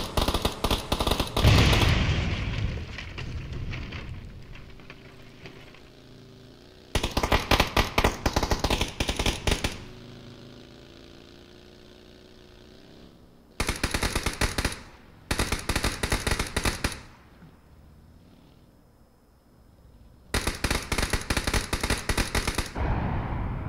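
Rapid automatic gunfire in a shooter video game comes in four or five long bursts, each a dense, loud rattle of shots lasting a few seconds, with quieter game ambience and fading echoes between them.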